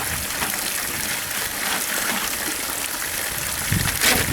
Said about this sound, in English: this water is going to run down to our big old apple trees